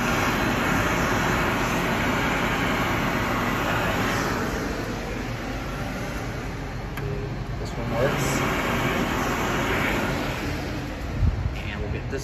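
A Jet Air hand dryer runs steadily in a Florida welcome center restroom, giving a continuous loud, broadband roar with slight swells. The sound is close and fills the room.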